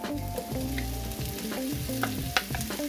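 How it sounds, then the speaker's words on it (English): Vegetables hitting a hot pan of cooked aromatics for Korean-inspired noodles, with a steady, close sizzle and frying crackle while they are stirred, and no talking. "now that our aromatics are nicely cooked, we're going to add our vegetables in here"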